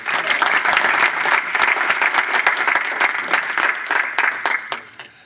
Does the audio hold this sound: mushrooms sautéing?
no